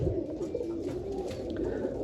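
Pigeons cooing in a loft, a low steady murmur of several birds that carries on without a break throughout.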